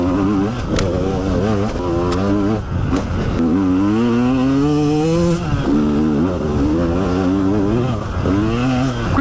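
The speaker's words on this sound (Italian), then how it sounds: "Qui sono stato di proposito un po' sotto coppia per vedere come andava la moto sui bassi regimi" A 2020 KTM 150 EXC TPI two-stroke enduro motorcycle ridden at low revs, its engine burbling close and loud with a steady, slightly rising and falling pitch, lugging under torque without hard acceleration.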